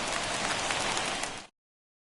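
Heavy rain pours steadily in a baseball video game, a dense, even hiss of drops that stays loud and unbroken, then cuts off abruptly to silence near the end.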